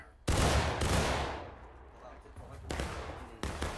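Musket volley fired in the video game War of Rights, a loud sharp crack ringing into a long decaying echo, followed by scattered lighter shots further off.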